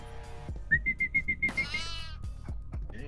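A goat in the horror video game Devour bleats in a run of short, evenly spaced cries, loud and close, followed by more ragged bleating and game sounds.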